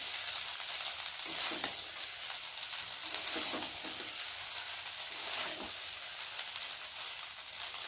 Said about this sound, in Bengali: এবার পুরো ভাতটাই দিয়ে দেবো। ভালো করে নেড়ে দেবো।